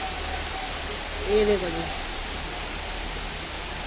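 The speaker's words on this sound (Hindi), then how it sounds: "ये देखो बताया था कि आज बारिश आएगी और तूफान भी आएगा, आ ही गई है" Steady rain shower during a storm with strong winds and dark clouds, a continuous broadband hiss of falling rain on surfaces, with a voice speaking briefly over it.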